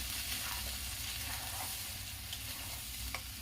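Mixed vegetables roast in a pan and are stirred now and then. A soft, steady sizzle carries a low rumble beneath it, with an occasional light clink of the spoon and no voices.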